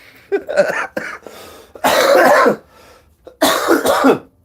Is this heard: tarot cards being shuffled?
no